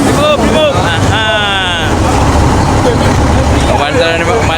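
An engine left unused for five years sputters and then runs, a loud rough mechanical rumble under excited shouting voices throughout.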